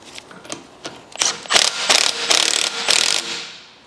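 Ratchet tightening a nut during front spring replacement on a VW Tiguan, loud close clicking in short bursts that speed into rapid sustained ratcheting runs, with no talk.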